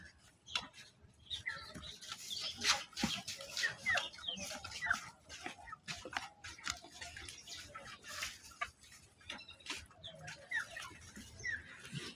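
Chickens clucking and calling while they peck at freshly cut grass set out for them, scattered close-up clucks over a busy outdoor background with brief rustles and occasional faint voices.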